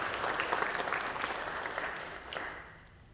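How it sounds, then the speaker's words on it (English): An audience at a school recognition ceremony applauds award winners, a full, lively round of clapping that holds steady and then begins to thin and fade toward the end. "Let's have a round of applause for our Do the Right Thing winners for the month of"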